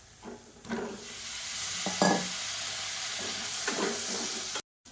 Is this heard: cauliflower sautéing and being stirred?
yes